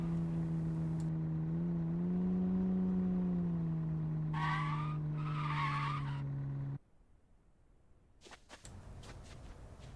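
A truck drives off-road in the survival game No One Survived, its steady engine drone close and loud with a brief skidding scrape midway, then cutting off abruptly into near quiet with a few faint clicks.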